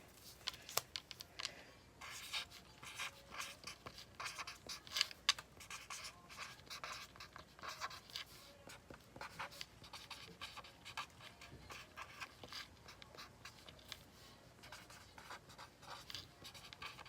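Pen scratching across paper while a message is written down by hand, a steady run of fine, close scraping strokes with short pauses, continuing alone for the whole stretch.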